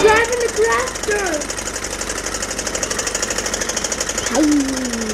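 A farm tractor engine chugs in a fast, even knocking rhythm nearby while children and adults talk over it.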